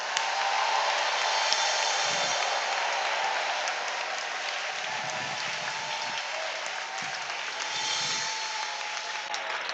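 Congregation at a church service cheering with cries of joy, a steady wash of applause-like crowd noise with a few brief shouts rising above it, continuous and fairly distant.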